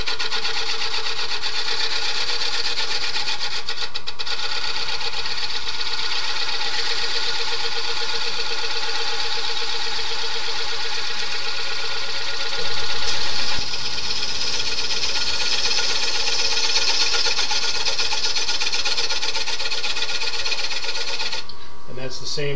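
A wood lathe spins a large serving bowl at roughly 500 RPM while the foot is trued flat, producing a steady, droning motor hum with a fine scraping texture that continues throughout.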